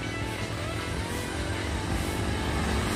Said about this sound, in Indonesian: Ada medium bus disalip ini